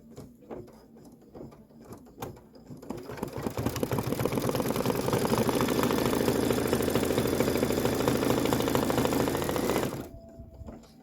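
An embroidery machine stitches a candy corn quilt block, starting with a few sparse clicks, then building into a fast, steady, buzzing rattle of needle strokes for several seconds before stopping suddenly.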